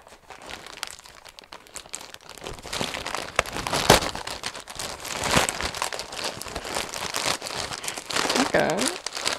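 A wrapped present is cut open with snips, bringing loud crinkling and crumpling of paper and packaging in close irregular bursts while a person talks.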